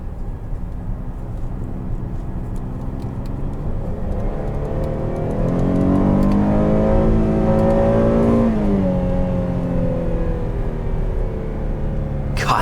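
A 2020 Buick Enclave Essence drives along with a steady engine hum that rises in pitch as it accelerates through the gears, heard from inside the cabin, fairly loud, without talk.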